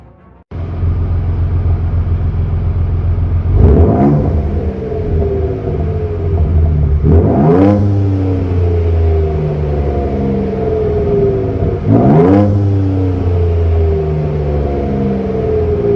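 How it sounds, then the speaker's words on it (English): A Ford Ranger Raptor engine with a selectable exhaust idles with a loud, steady low rumble, then revs sharply three times, each rise and fall close and dominant, with no voices. "Steering wheel, you have a button there to change the exhaust sound."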